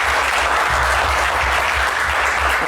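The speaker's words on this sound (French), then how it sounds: "sous les applaudissements du public." Studio audience applauding on a French TV quiz set, a steady dense wash of clapping held at even strength from start to finish, with no voices over it.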